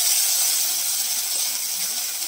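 Onion paste dropped into hot oil for a Bengali bhola fish oil curry, giving a loud, continuous sizzling hiss that fades slightly over its short length.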